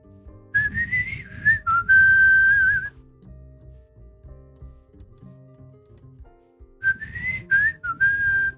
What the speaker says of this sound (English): I'll whistle, play the lick in a random key